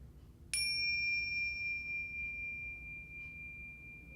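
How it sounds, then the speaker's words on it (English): A meditation bell is struck once, a bright metallic ding that rings on as a long, clear, slowly fading tone over a quiet room hum. "So we don't have to use bells, but I'm going to use them."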